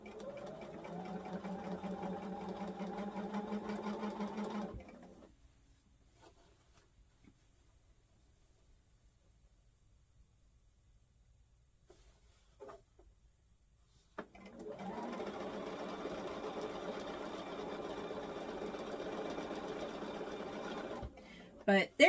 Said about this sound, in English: there is just something about a sewing machine, the sound of it